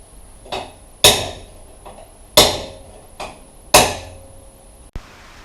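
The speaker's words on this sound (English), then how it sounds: "I've hammered out the tailpipe so it's now looking a bit rounder." A car tailpipe is hammered out in four sharp metallic blows spaced about a second or more apart, each strike ringing briefly before a lighter tap at the end, with no talking.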